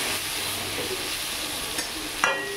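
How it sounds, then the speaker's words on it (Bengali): Eggplant pieces fry in oil in a pan, making a short, steady close-up sizzle with a soft clink near the end. "বেগুনটা ভাজা হোক"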